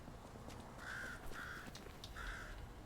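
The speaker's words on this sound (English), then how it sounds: "Yes, we hear you, Mr. Crow." Three harsh crow caws ring out in the video game Lies of P, loud and evenly spaced over a low ambient game backdrop.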